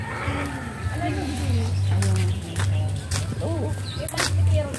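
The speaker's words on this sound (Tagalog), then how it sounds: "May tunog-tunog pa ng ibon." Outdoor birdsong with a pigeon or dove cooing repeatedly on a hot day, faint chirps mixed under people chatting and a steady low hum.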